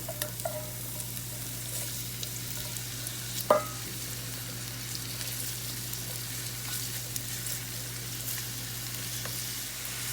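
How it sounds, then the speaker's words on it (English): Garlic sizzling in a pan for lasagna, a steady soft frying hiss with a low background hum, occasional light clinks and a brief scrape of stirring, no talking. "Once our garlic has started to sizzle, it's time to go ahead and add our onions."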